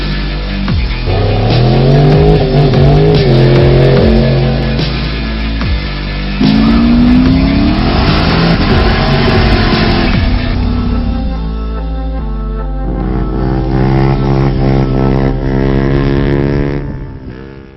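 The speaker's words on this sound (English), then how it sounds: "we're literally just going to see if the car launches" A loud car engine revs hard and launches on a TracBite-treated road, accelerating with pitch climbing through gear changes, close and continuous with no talking.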